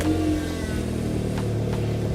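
A high-mileage car's engine idles and hums steadily nearby, a low continuous rumble with slight revving, no talking.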